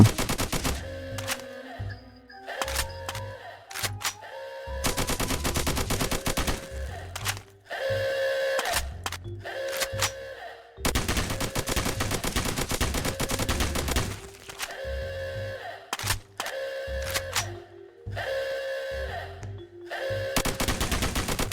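In the Roblox game Military Tycoon, a gun fires in long sustained bursts of rapid automatic shots, loud and close, separated by short gaps across the whole stretch.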